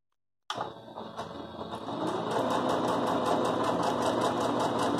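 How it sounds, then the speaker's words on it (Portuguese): A sewing machine stitches a seam joining fabric scraps for crazy patchwork, starting abruptly then settling into a steady close whirring hum with rapid needle ticking throughout. "vamos passar uma costura aqui de um pezinho de máquina"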